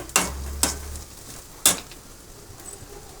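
Onions sautéing in a pan for a chicken dish: a few sharp spoon knocks and scrapes against the pan over a faint, low sizzle, close and quiet, with no talking.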